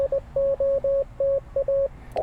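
A ham radio sends a Morse code CW sidetone while calling during a Parks on the Air activation: a clear steady tone keyed into crisp short and long beeps with small gaps between them.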